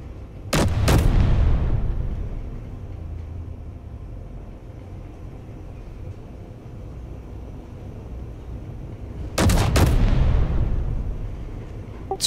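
Turret guns fire in the space combat game Space Engineers. Two loud booming blasts roughly nine seconds apart each fade into a long rumbling tail, with a low steady hum between them.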